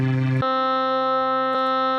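A bright synth lead preset plays a short buzzy note, then holds a long, steady, harmonically rich tone. The tone is re-struck once near the end, and a heavy reverb wash trails behind it.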